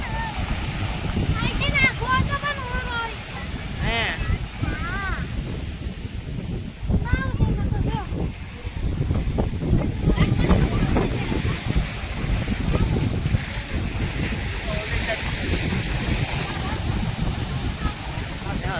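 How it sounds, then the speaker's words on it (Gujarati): Steady roar of surf and wind at Porbandar Chowpatty beach, with voices chatting over the constant rushing noise. "જો દરિયો કેવો છે કેટલો છે મોજા કેવા મારે છે"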